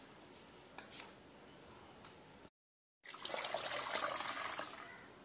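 Rice and fenugreek are washed in water: faint trickles and splashes, a brief gap of silence, then louder, busier sloshing and swirling close by.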